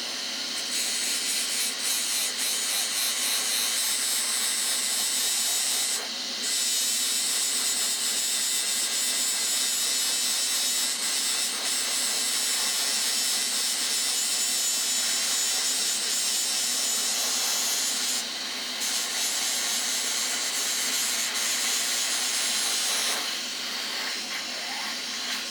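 Dremel rotary tool polishing the 90-degree edge of a rock slab, a steady high-pitched whine with hissing grit contact running almost continuously, with two brief dips in pitch and level along the way.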